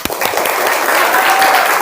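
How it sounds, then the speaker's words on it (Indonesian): A classroom of students bursts into steady applause, many hands clapping densely and fairly loudly for a couple of seconds. "sip, tepuk tangan"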